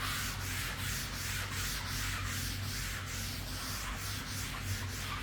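Applicator pad spreading SONAX fabric coating foam across a convertible's fabric roof, a continuous close brushing and rubbing with a soft even rhythm of repeated strokes and no voices.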